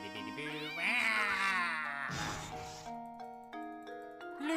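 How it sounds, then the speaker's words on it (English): Cat in the Professor Layton video game giving a long, wavering meow that rises and falls, followed by chiming musical tones and soft bell-like notes of the game score. "There's the cat."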